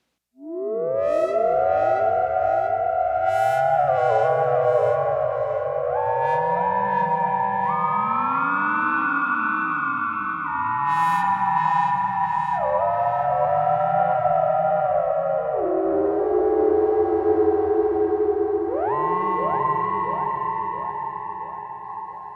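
Eerie Sequential Prophet 6 synthesizer patch called Wraith: wailing, siren-like pitch sweeps and sustained drones, building a haunted, atmospheric wash that plays loud and unbroken throughout.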